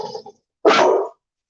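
One loud, close dog bark, a short sharp burst following a brief softer sound, then silence.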